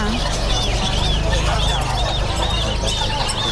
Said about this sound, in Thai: อันนี้เป็นลูกไก่แจ้นะครับ